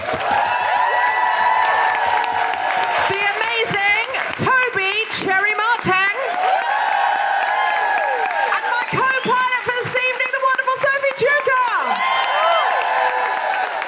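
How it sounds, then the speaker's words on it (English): Live podcast audience applauding and cheering at a comedy show, with whoops and shouts rising over the clapping and a voice speaking through part of it. "Could you give a big, big round of applause for the wonderful Koko Brown?"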